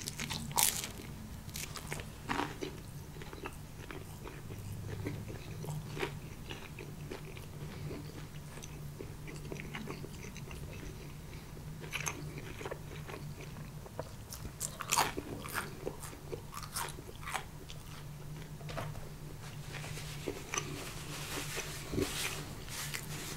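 Pizza bitten and chewed close up in a quiet room, repeated crisp crunches and crackles with steady chewing over about twenty seconds, no talking.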